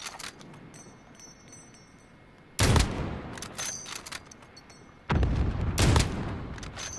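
Gunfire in the video game Call of Duty: Modern Warfare, a multiplayer match defending a data center, comes in two loud, dense bursts of sustained fire, separated by quieter background game noise.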